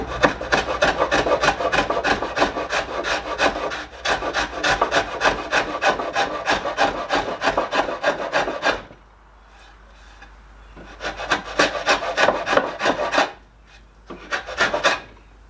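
Hand plane shaving light cuts across the end grain of a wooden rice chest panel, steady rasping strokes in quick succession, a pause, then two more bursts of close, loud planing with no talk.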